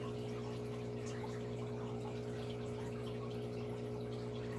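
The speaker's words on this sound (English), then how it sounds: "Our filters are moving water, circulation" An aquarium filter circulates water with a constant low pump hum and a soft continuous trickle, faint and unbroken throughout.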